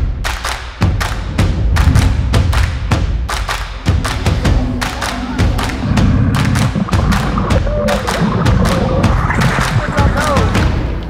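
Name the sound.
digging for a metal detector target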